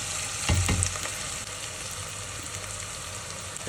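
Ground meat sizzles and fries in a pan for a homemade fettuccine bolognese, a soft steady crackle with a couple of brief stirring knocks near the start, with no voices.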